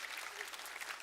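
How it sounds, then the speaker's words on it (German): Applause from a church audience during a Sunday service, a dense, steady wash of many hands clapping at moderate volume for about a second, with no voices over it. "lasst uns mal unserem Team einen Applaus geben"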